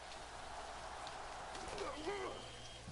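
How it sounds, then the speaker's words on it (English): Rain and wind in the Maximum Football 2019 video game, a steady hiss of falling rain across a stadium, quiet and even throughout, with faint chirping calls drifting over it near the end. "Kicking off here in this rainy, windy weather."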